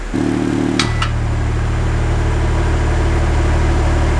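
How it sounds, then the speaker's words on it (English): Exhaust of a 2022 BMW X3 M40i in Sport mode, a steady deep idle rumble that swells as the flaps open, close and loud with a brief higher clack near the start. "you already can hear the exhaust tone and the flaps opening"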